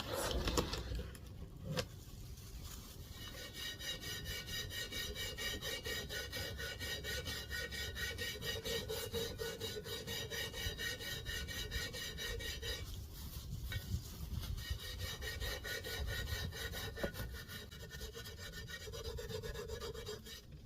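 Steady rasping scrub on rusty cast iron, continuous and fairly close for the whole stretch with no talking, a repetitive rubbing texture that hardly changes.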